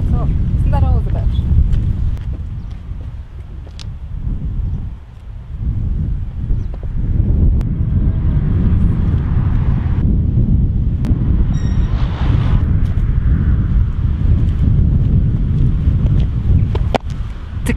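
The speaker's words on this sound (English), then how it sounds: "That wind is really picking up." Strong wind buffets the microphone outdoors, a loud continuous rumbling roar that swells and gusts throughout, with a person talking over it at times.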